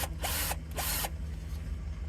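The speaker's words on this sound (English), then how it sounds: "Now I'm going to take this off. These are just little screws." Tiny screws come out of a fitting in a camper van in the cold, heard as two brief whirring, ratcheting bursts close by, each about a third of a second long, followed by quiet room hum.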